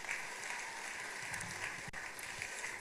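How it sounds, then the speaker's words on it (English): Applause from a congregation at a beatification Mass in Uganda, a steady, fairly faint wash of clapping that runs through the whole short stretch without any talking. "We can clap for them in their absence."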